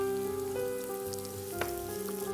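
Onions drop into hot oil for a healthy chicken oats haleem and fry with a steady, close sizzle, with a brief clatter partway through.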